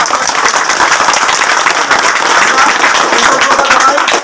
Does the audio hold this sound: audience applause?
yes